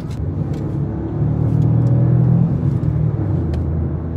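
A Peugeot 208 with a PureTech petrol engine accelerates while merging onto a highway. Its steady in-cabin engine rumble swells partway through as it builds speed, with a few faint ticks and clicks on top.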